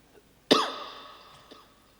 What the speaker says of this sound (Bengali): আমার যখন কাশি উঠছে অনেকের কাশি উঠে গেছে